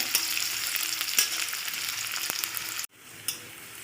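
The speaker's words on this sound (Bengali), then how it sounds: "পেঁয়াজটা একটু ভেজে নিতে হবে একটু ভালো রকমই ভাজতে হবে" Finely chopped onion frying in oil in a pan gives a steady, close hiss with a few sharp crackles. The sizzle drops off abruptly near the end and then resumes more quietly.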